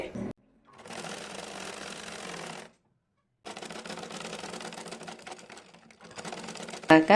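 A sewing machine stitches the fabric of a girl's skirt, running in two long steady bursts with a short pause between, loud and close, with brief talk at the end.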